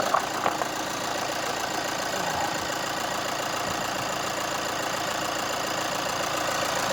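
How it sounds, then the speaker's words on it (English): A diesel Chevrolet Colorado engine idles steadily with a constant low rumble and faint knock, heard close and alone with no talking. "Got that good diesel sound to it."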